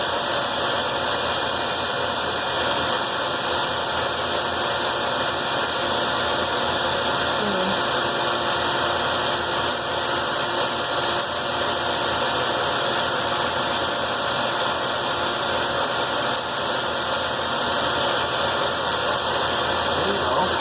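A band saw runs steadily throughout, a constant motor hum with a whirring drone holding even from start to finish and never breaking.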